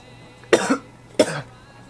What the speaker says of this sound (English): That's one of those rips where the coughs are gonna come in late.